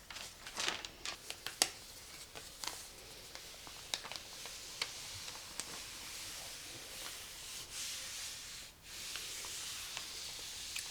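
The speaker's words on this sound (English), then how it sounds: "Just crispy, crispy paper." Crisp pattern paper crinkles and rustles while handled for a toile being cut out for sewing overalls, a run of sharp close crackles and rubs that settle into a steady soft rustle, alone without speech.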